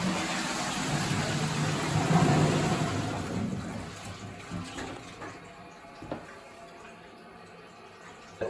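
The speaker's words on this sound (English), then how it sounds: "Let's give it a flush." An old-style toilet cistern in a house being flushed, with a surge of rushing water that peaks early, then tapers into quieter trickling and a few small knocks.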